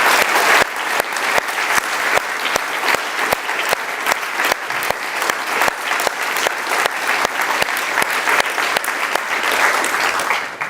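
Audience at an Oxford Saïd Business School panel gives sustained, enthusiastic applause, many hands clapping close and loud without pause.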